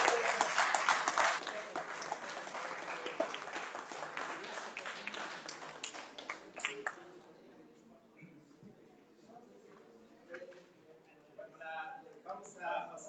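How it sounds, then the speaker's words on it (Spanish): Applause from an audience at a session on Methodism and the Protestant Reformation rises in a dense patter of clapping, then thins out to scattered claps and a few voices. "Todos un aplauso."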